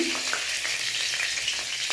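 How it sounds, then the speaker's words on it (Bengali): Dried red chilies and panch phoron crackle in hot mustard oil in a kadai, a steady dense sizzle running without a break through the short stretch, close and fairly loud, with no talk. "কড়াইতে তেল গরম করে সর্ষের তেল দিয়েছি, তার মধ্যে দেবো শুকনো লঙ্কা, পাঁচফোড়ন"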